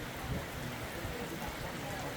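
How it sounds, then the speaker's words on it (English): A dense, even wash of rainfall hisses continuously over a floating village in Agusan Marsh, Mindanao, with a low rumbling undertone and no clear voices. "The rain has really set in."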